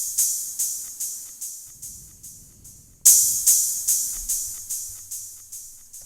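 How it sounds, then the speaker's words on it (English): A bright, hissy open hi-hat in a trap beat, repeating at a steady pulse, each hit ringing out with a short reverb tail, alone without other drums. "the last sound here is just this open hat, and I added a little bit of reverb on it"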